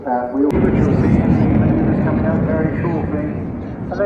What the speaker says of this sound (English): take a look at the hard points underneath the jet now as she passes in front of you